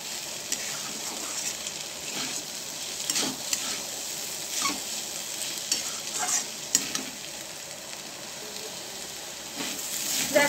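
Food frying and being stirred in a pan, a continuous sizzle broken by repeated scraping stirs at close range, with no talk.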